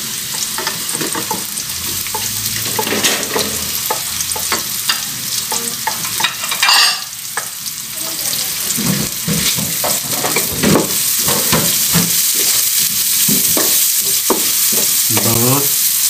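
Garlic and ginger sautéing in a pan for ginataang papaya with dried shrimp, a loud steady sizzle with repeated spatula scrapes and stirring throughout, close up.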